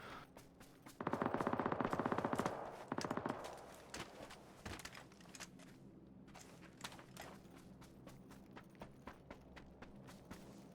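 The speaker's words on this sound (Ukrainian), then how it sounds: "по мені всі стріляють" Rapid bursts of gunfire rattle close by in PUBG, followed by scattered single shots and clattering steps over a low background hum, no talking.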